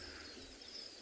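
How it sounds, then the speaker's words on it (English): A couple of wild birds call faintly across the bush on a calm early morning at Tswalu during a sunrise safari, soft and distant over a steady hush. "You can hear a couple of birds calling,"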